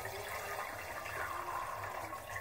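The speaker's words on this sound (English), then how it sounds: "I'm going to take my tincture and I'm just going to pour it in through" Black walnut tincture poured through a strainer into a crock, a steady liquid rush and trickle lasting throughout, close and even without pauses.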